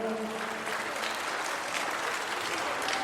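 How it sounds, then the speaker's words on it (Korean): Audience of around 300 elderly guests at a free samgyetang tasting event in a Hanam elementary school applauding volunteers, steady broad clapping filling the whole stretch at moderate level, a voice briefly audible at the start. "박수 한번 쳐주세요"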